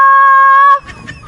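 A single loud, sustained rooster crow rings out close by, then cuts off, leaving faint background noise.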